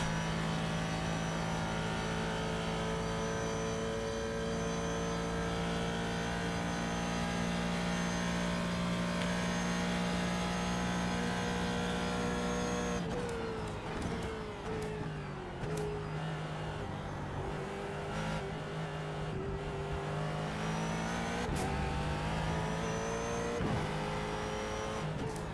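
Ford GT3 race car in the iRacing sim at Indy Road course, with a steady loud engine drone and sustained high revs that shift and waver through gear changes and cornering.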